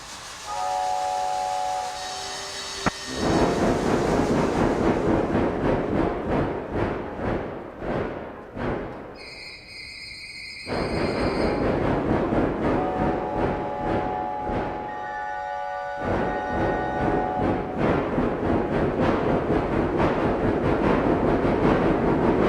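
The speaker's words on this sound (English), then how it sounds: "Now, next one is the Steam Train." A steam train recording: long shrill steam whistle blasts alternate with loud hissing steam and a rhythmic chuffing beat, close and continuous throughout.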